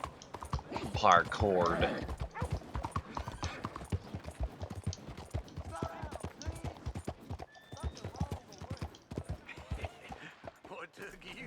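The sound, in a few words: horse hooves and whinny in video game Red Dead Redemption 2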